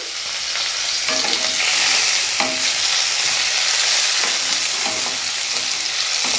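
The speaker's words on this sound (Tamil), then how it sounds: "இதையும் சேர்த்துட்டு நல்லா வதக்கி விடலாம்." Tomato, coriander and tamarind sautéing in a pan for chutney, with a constant loud sizzle and occasional soft stirring knocks, heard up close with no voices.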